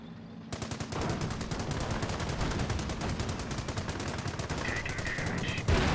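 Sustained rapid machine gun fire from a Company of Heroes battle, a dense continuous stream of loud shots running for several seconds with other game sounds mixed in.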